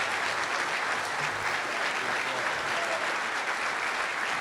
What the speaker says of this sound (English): let's give our brother a thunderous round of applause